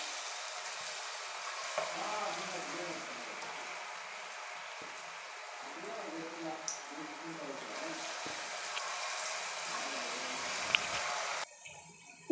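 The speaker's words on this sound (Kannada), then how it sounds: "ನಾನು ಕಲಸಿಟ್ಟಿರೋಂಥ ಆಲೂಗಡ್ಡೆನ ಒಂದೊಂದಾಗಿ ಎಣ್ಣೆಲಿ ಬಿಡ್ತಾಯಿದ್ದೀನಿ" Pieces of mashed potato kebab mixture slipping one at a time into hot oil, a steady soft sizzle and bubbling with small splashes, while a person talks over the cooking.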